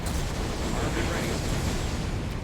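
Space battle explosions from the Star Trek Armada 3 strategy game rumble in a dense, continuous roar of booms and bursts, loud throughout, with some game voices mixed in.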